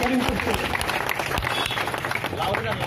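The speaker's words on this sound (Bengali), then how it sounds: "আপনারা হাততালি দিচ্ছেন যথেষ্ট অকৃপণ ভাবে" An audience at a store's lottery draw claps in a dense, steady patter for a few seconds while a voice talks over it.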